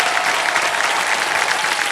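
Studio audience at a televised quiz show stage breaks into sustained, dense applause, loud and steady from start to finish with a faint murmur of crowd underneath.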